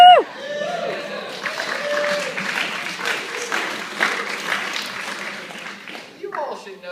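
Classroom students clapping and cheering, a scattered burst of claps and whoops mixed with overlapping chatter, with a voice talking at the start and end.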